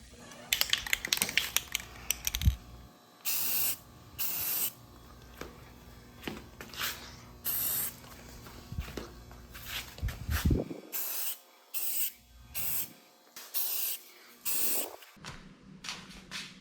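Semi-gloss black spray paint hisses onto a primed boat mirror in repeated short bursts, close and fairly loud, with brief quiet pauses between passes.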